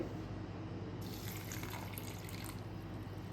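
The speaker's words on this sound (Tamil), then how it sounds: "இந்த வறுத்து வச்சது இருக்குது பார்த்தீங்கன்னா, இதில் தண்ணி விட்டு" Water poured from a vessel onto roasted ingredients for a Vinayaka Chaturthi kozhukattai payasam, a steady close splashing pour that starts about a second in and continues alone.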